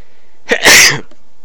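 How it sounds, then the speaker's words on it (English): A single sharp human sneeze close to the microphone, a brief inhale then a loud burst lasting about half a second, with near silence around it. "Sneeze."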